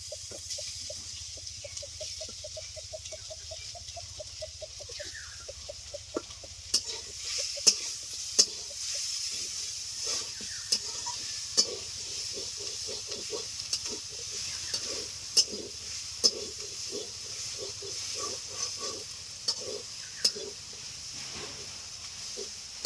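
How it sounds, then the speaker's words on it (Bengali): Boiled fish frying in a pan gives a quiet, continuous sizzle, while repeated scraping stirs and sharp clinks of a spatula keep a loose, uneven rhythm. "সবকিছু একটু ভাজা ভাজা হয়ে গেছে এখন দিয়ে দিচ্ছি সেদ্ধ করে রাখা মাছ"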